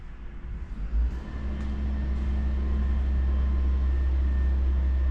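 A Mitsubishi Lancer Evolution VI with a newly fitted exhaust system rumbles close by, a deep low exhaust note that briefly blips, then settles into a steady, louder drone.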